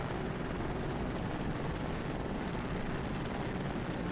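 Buzzing helicopter-blade craft in the game Trailmakers, a steady dense whirring drone with constant loudness and no pauses throughout.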